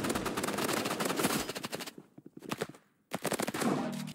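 Rapid bursts of shotgun fire in a Roblox game, clusters of sharp close shots with brief silent gaps between volleys.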